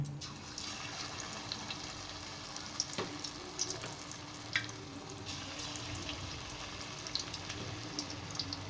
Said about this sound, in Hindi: हमारा ऑयल भी अच्छा खासा गर्म हो चुका है और अभी हम इसमें पकौड़े फ्राई करके